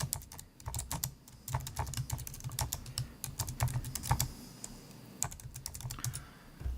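Someone types on a computer keyboard in quick, irregular bursts of close, crisp keystrokes with brief pauses between words. No one speaks.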